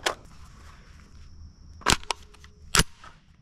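Unsuppressed CZ Bren 2 rifle fired into the dirt: two sharp, loud cracks about a second apart, with smaller impact snaps and a faint ringing tone between them.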